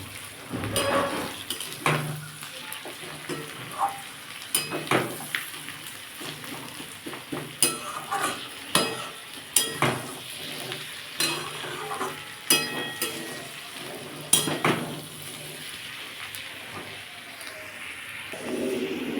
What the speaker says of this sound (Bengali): হাফ চামচের কম লঙ্কা গুঁড়ো দেবো দিয়ে আমি এটাকে ভালো করে আবার কষবো